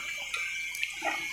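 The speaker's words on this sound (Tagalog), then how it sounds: "Hugasan lang natin kahit gulay to, kailangan nating hugasan." Tap water running over Bisaya pechay being washed in a kitchen, a brief soft splash and trickle with small drips, close and quiet, with no one talking.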